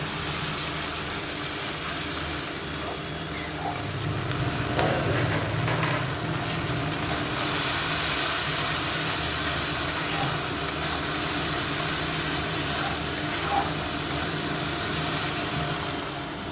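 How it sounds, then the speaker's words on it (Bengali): Spices for a pabda fish curry fry in a pan and are stirred, giving a steady broadband sizzle with scattered scraping clinks throughout, fairly close and without talk. "মোটামুটি ভাজা ভাজা হয়ে গেছে মশলাগুলো, এবার একটু জিরের গুঁড়ো দিয়ে দেব"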